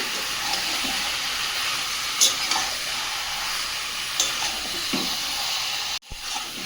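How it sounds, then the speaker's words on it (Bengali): Whole chicken curry with fried potatoes sautéed in a pan gives a soft continuous sizzle, with a few spoon scrapes and clinks against the pan and a brief knock near the end. "ভালো করে কষিয়ে নেব। ভেজে রাখা আলুগুলোও দিয়ে দেবো।"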